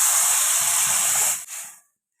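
Boiled lentils hitting a hot spiced pan, a loud broad sizzling hiss that holds steady, then drops off abruptly and fades out.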